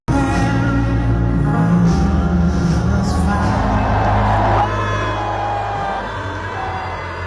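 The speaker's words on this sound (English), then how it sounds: "you can certainly hear one man definitely booing, some people cheering" Stadium crowd at the Super Bowl reacting to Trump, a dense roar of mixed boos and cheers with whoops, loud and sustained throughout, easing slightly toward the end.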